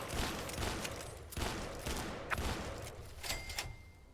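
Gunfire in Fallout: Tale of Two Wastelands, a handful of sharp shots spaced irregularly over a few seconds amid quieter game ambience, fairly close and crisp.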